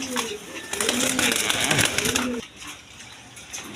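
Indian Bombay red pigeons coo in a series of low, rolling calls that rise and fall through the first couple of seconds, close by, with background chatter and a faint voice mixed in.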